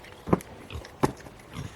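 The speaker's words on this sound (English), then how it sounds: "Frantic and oinking." Pigs oinking frantically before feeding on a homestead, two sharp loud grunts about a second apart with softer snuffling between them.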